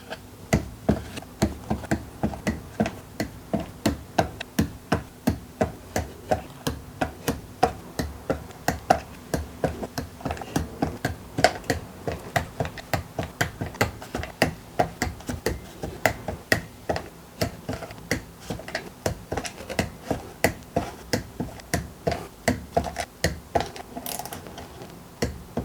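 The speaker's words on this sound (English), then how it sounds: "All back together, all bolts torqued to 6 Newton meters." A torque wrench clicking repeatedly as bus bar bolts on a 48V LiFePO4 battery pack are tightened to 6 newton metres, giving a long run of sharp, close ratcheting ticks in an uneven rhythm.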